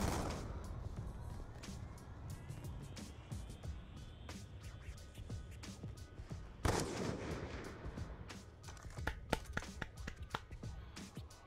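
Video game gunfire during a trickshot round, scattered sharp cracks against a low rumbling background, with a heavy blast midway and a quick cluster of shots near the end, fairly faint overall.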